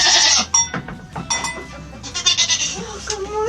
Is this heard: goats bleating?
yes